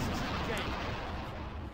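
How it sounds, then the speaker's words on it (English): Dense, rumbling explosions in the game Redneck Rampage Rides Again fill the whole stretch, a continuous booming roar with crackling bursts, loud and close. "fucking explosions"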